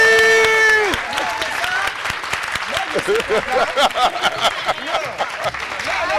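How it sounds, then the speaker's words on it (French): A gathering applauds an aunt, starting as a sustained tone and voice that cut off, followed by scattered, uneven clapping from a modest crowd that comes in irregular bursts. "On va applaudir pour la tantine"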